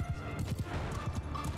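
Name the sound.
horse hooves galloping in video game Mount & Blade II: Bannerlord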